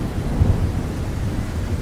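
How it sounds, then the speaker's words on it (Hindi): Thunder rumbles low and heavy in a Hindi 2D cartoon about birds as the rainy season begins, with steady rain hissing underneath, loud and continuous with no voices. "बारिश का मौसम शुरू हो गया है"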